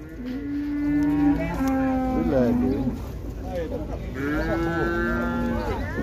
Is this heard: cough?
no